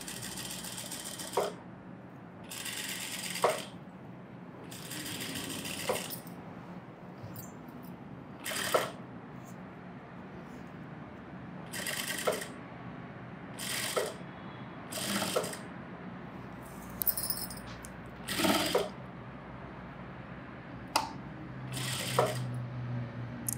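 A sewing machine stitches the lining of a 12-year-old girl's blouse in short separate bursts, each a quick rattling run of needle strokes, near and clear with pauses between.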